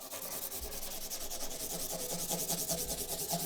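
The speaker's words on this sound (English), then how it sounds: "Now just rub it down with 600, just to take the scratches out and get it even smoother." Acoustic guitar nut being sanded with 600 grit sandpaper, heard as a steady close rhythmic rubbing with quick back-and-forth strokes, alone without talk.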